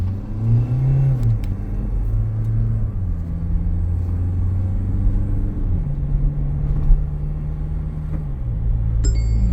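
Mahindra Scorpio N Z8 SUV engine droning steadily while driving, with pitch rising and falling through several accelerations and gear changes, heard from inside the cabin with no talking.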